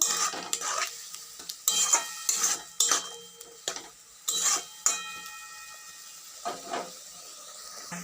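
Tomato, ginger and garlic paste is stirred in a pan, a metal spatula clattering and scraping in irregular bursts over a faint steady sizzle, busy at first and thinning out toward the end.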